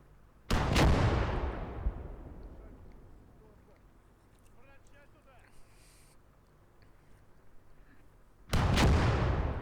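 Two loud gunshot blasts from the video game Call to Arms: Gates of Hell, one near the start and one near the end, each followed by a long decaying boom, with quieter battlefield rumble in between.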